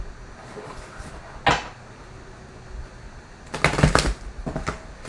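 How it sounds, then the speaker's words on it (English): Papery riffling bursts of cards being shuffled, one brief flurry then a longer run of quick shuffles, close by, with no talking. "and shuffle again."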